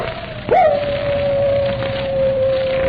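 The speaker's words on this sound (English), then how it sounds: "Captain Drummond, that howl, it's the wolf dog. Moran's dog." A radio drama sound effect of Moran's wolf dog howling: one long, steady, sustained howl that rises sharply at the onset, then holds a clear tone close and loud against a faint background.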